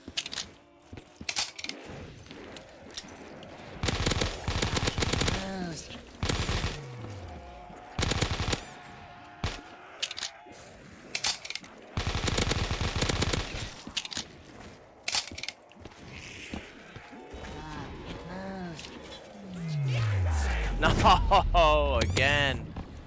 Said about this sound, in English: It's very interesting that it does like barely any ammo, but the pistols fire.